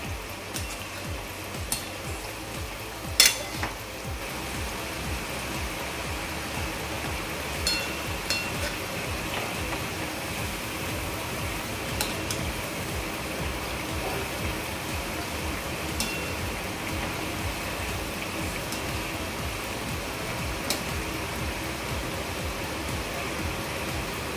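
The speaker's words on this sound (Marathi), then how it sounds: "असा हलकासा ब्राऊन रंग येईपर्यंत आपल्याला फ्राय करायचं आहे." Balls of churma ladu dough frying in a pan give a steady, dense sizzle like rain that runs the whole time, with a few faint clicks of a utensil now and then.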